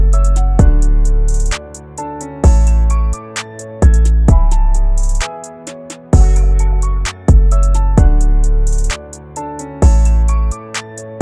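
The recreated chorus of a song plays loud, with a pumping deep bass hitting in a repeating rhythm under bright melodic chords and plucked figures and no voices.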